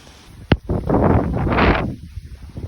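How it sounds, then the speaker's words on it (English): Wind gusts and rain sweep over an outdoor fishing spot, rising into a broad rushing roar that lasts over a second before easing. A sharp knock comes just before the gust, and the ambience is quiet and close. "it's really windy and blowing and rainy and stuff"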